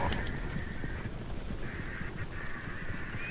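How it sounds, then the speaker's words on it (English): Horses clip-clop steadily in Red Dead Redemption 2, with a wagon nearby and a horse whinny, hooves close and continuous under a faint high whistle. "I like how horses are following us."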